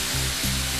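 Food sizzles in hot cooking oil as a steady, close hiss with a low rumble underneath. No voices are heard.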